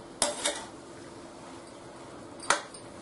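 A spoon stirs chopped ridge gourd into half-cooked chana dal in a pot. Two quiet metallic clinks against the pot sound about two seconds apart, with near silence around them.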